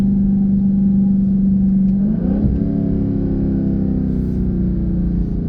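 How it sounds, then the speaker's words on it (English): A car's engine is slowed by downshifts through paddle shifters: a steady hum drops in pitch, blips upward as a gear engages, then settles into a lower, even drone of engine braking. "I will let you hear Jezebel back us down. Using the paddle shifters."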